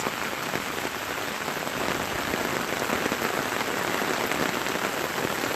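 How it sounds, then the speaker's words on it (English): Heavy rain pouring down, a dense, loud, unbroken roar of drops hitting surfaces close by, steady from start to finish with no voices. "The rain is really coming down."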